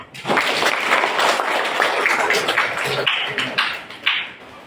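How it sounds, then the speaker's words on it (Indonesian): Classroom group applauding after student group presentations in a teaching practice session, brisk clapping of moderate size that tapers off after a few seconds. "Kita beri tepuk tangan."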